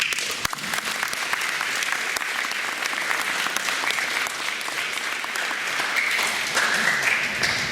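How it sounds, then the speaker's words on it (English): Audience applause at a D.A.R.E. graduation ceremony, a dense, steady round of clapping that holds at an even loudness from start to finish. "So you need to give them a round of applause."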